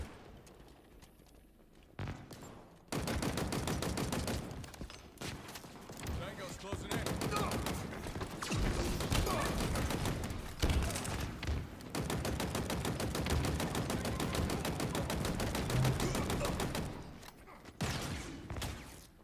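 Gunfire in Halo Infinite multiplayer, long sustained rapid bursts of automatic fire rattling almost without pause over several seconds, broken by brief quieter gaps at the start and end.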